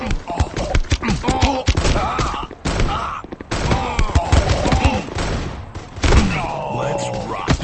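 Shotgun blasts and other gunfire in the mobile shooter game Guns of Boom, several sharp booming shots in quick sequence, loud and close, with in-game voice lines between them.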